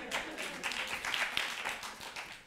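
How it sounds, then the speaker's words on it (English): An audience claps at a design talk, a busy burst of applause with sharp individual claps standing out, fairly close and steady for a couple of seconds. "Hand of applause for that."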